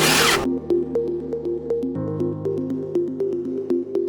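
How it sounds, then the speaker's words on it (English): Nuts and bolts come off the upper metal casing of a Toyota Alphard hybrid battery: a loud burst of a power tool, then a steady tonal whir with regular sharp clicks repeating close by. "Now, it is safe to unscrew the nuts and bolts and lift open the upper metal casing."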